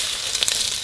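Beef browning in oil in a pan for Texas chili, a loud, close, steady hissing sizzle with a few small pops.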